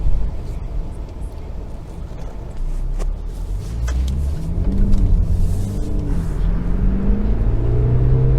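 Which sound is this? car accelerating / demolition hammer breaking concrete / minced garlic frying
car accelerating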